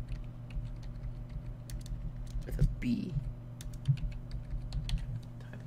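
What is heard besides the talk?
typing on a computer keyboard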